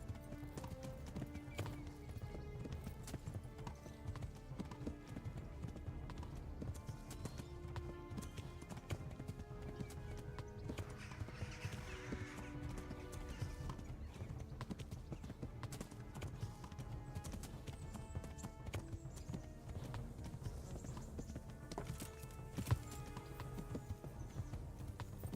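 Horse hooves clip-clop steadily in a video game, a quiet, continuous rhythmic trot with an occasional whinny, set against a soft, layered game soundscape.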